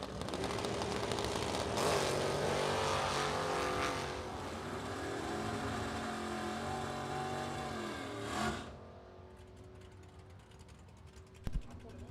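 Drag racing pass of a 1969 Nova and a 1969 Camaro with a 355 small block, engines droning loud with rising and falling pitch before cutting off sharply, leaving quieter background.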